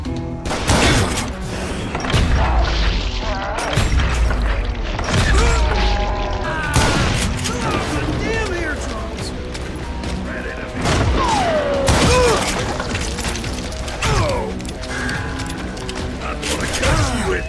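Shotgun blasts and booms crack loudly in the Western shooter video game Gunslinger, mixed with clanking mechanical reloads and crashes over a busy, dense game soundscape.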